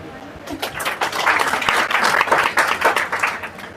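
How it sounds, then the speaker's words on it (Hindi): Clapping from a seminar crowd gathered to learn about succeeding in RCM, a dense spatter of hands that swells after a quiet start and holds steady, with a voice faintly mixed in. "दूसरा काम, ताली बजाइए।"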